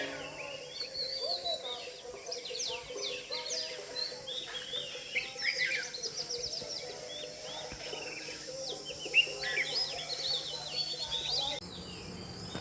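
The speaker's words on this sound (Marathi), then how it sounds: "किती छान पक्ष्यांचा आवाज" Birds chirp and sing in a quiet village at early morning, with many short, rising tweets scattered over a faint steady drone of insects, soft and moderately distant.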